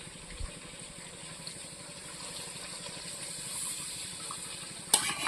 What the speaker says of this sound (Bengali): এবার গরম জলটা মাংসের মধ্যে দেবো